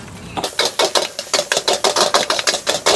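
Metal spatula rapidly knocking and scraping against a wok while spicy nasi goreng fries with kangkung, a steady, brisk clatter of repeated sharp strikes over a sizzling background, close and loud.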